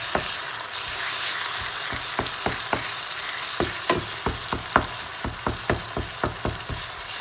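Tomato chicken curry stirred in a hot pan, a steady sizzle over which a spoon strikes and scrapes the pan in a quick series of sharp, close clicks.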